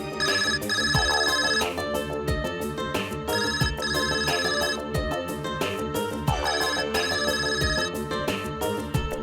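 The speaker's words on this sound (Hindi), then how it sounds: "किस बदतमीज का ये फोन है? बंद करो उसको।" A mobile phone ringtone goes off in a courtroom, a loud, close electronic melody repeating in a steady looping pattern throughout, with no speech over it.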